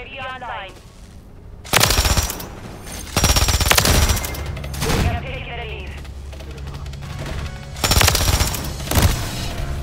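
Rapid bursts of automatic gunfire in Call of Duty MW3, several loud volleys separated by short pauses, with a voice talking between them.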